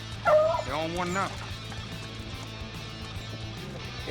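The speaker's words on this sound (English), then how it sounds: "I'm about to show y'all the best rabbit dog that they got on the face of this earth" A rabbit hunting dog bays on a rabbit trail in Louisiana, a few yelping, wavering cries close by early on, then fading under a steady low hum.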